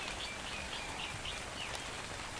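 Rain in the video game Ark: Survival, a dense, even hiss of falling drops with faint bird chirps mixed in, steady and unbroken for a couple of seconds.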